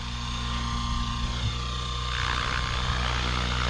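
Steady high whine and buzzing rotor drone of an Align T-Rex 650X RC helicopter in flight, continuous and fairly loud with a slight shift in pitch partway through, no voices.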